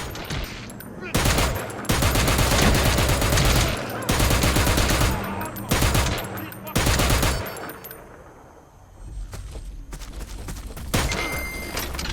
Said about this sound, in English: I'll just take out the sniper with a light machine gun